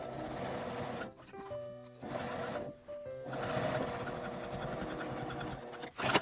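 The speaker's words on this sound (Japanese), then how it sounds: "クリップで留めて端ミシンをかけます。" A home sewing machine edge-stitches the folded top of an unlined drawstring bag, a quiet, rapid needle chatter running in short bursts with brief pauses between them.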